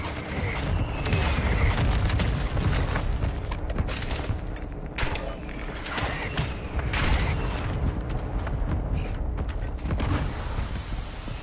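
Gunfire rattles in a video game amid creaks and heavy booms, dense bursts of shots over a loud, continuous mechanical din, with a voice talking faintly underneath.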